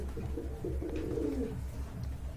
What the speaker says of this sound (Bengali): এক জোড়া চিলা কবুতর, মাশাআল্লাহ অরেঞ্জ চিলা, খুবই সুন্দর কবুতর